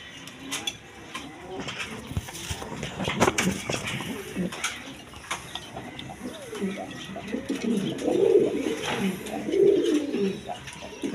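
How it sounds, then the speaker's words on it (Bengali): Caged egg-laying pigeons, including a pair of Bombay pigeons, coo in low, throaty bursts over a busy, rustling background, growing louder toward the end. "একদম কোয়ালিটি সম্পন্ন ডিম বাচ্চা করানো কবুতর"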